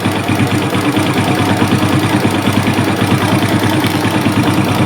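A Suzuki Smash motorcycle engine idles steadily and loudly up close, a continuous throbbing putter with no break.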